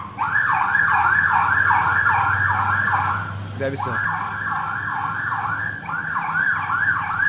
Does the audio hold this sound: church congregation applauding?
no